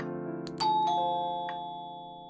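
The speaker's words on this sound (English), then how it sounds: "Doorbell." A doorbell in the video game Cold Front rings a clear two-tone ding-dong, with a ringing tail that fades slowly in a quiet room.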